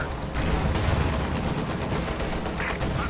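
Sustained gunfire from a Panzer IV in the Company of Heroes 2 strategy game during a 2v2 match, a dense, continuous battlefield roar of shots with no clear pauses.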